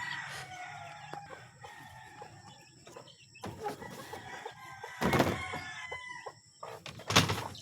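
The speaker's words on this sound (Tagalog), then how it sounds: "Kukuha tayong pagkain ng mga sisiw natin." Backyard chicks and other fowl cluck and chirp while being fed, with a rooster-like call among them. Occasional clatter and rustling rise over a steady, moderately close background of bird noise.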